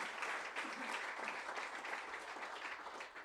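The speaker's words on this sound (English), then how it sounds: "we can applaud for that." A crowd at a veterans rally for a governor's campaign claps steadily in a broad, even wash of applause, moderately distant and continuous for a few seconds.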